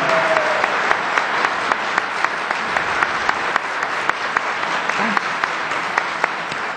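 A studio audience at a 2008 Democratic gubernatorial debate applauds in a steady, even burst of many hands clapping in a hall, sustained throughout.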